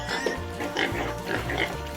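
Pig grunts and oinks from a farm animal, several short snorting calls spread over two seconds, close and fairly loud against a noisy background.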